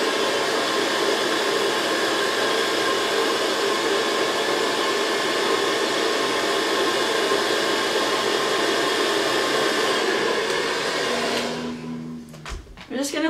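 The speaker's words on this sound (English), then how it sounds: "I'm going to grab my blow dryer, I'm going to turn it on low air, and I'm just going to blow dry that section." Blow dryer on low air drying a section of hair, a loud steady whooshing whir that runs continuously for over ten seconds before cutting off with a brief clatter.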